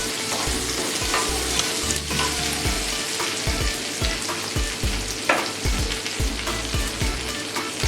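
Onion, tomato and capsicum sizzle steadily in a pan for mushroom gravy, with frequent scraping stirs from a spoon throughout, close and fairly loud, no talking.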